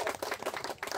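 A crowd at a riverside boat-race prize event claps in a short, uneven patter of hands, moderately loud and close, lasting only about a second.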